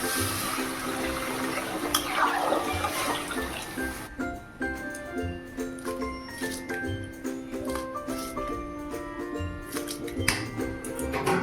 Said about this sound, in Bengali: এখন মুসুর ডালটা ভালো করে ধুয়ে দিয়ে দেবো।